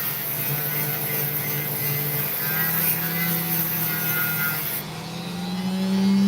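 A steady motor whine and grinding hum of a sanding wheel running continuously, with an opal pressed against it, loud and close, no talking.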